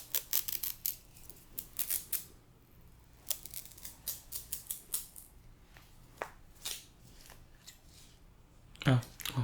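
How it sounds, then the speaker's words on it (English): Tiny little scissors snip in quick irregular bursts of crisp clicks, close and soft, with short pauses between runs and a voice speaking quietly in between. "This tiny little scissor."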